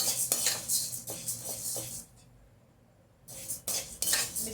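Lentils dry roasting in a pan for bisibela bath powder, with busy scraping and clinking of a metal spoon against the pan in bursts, a short quiet pause, then more vigorous stirring.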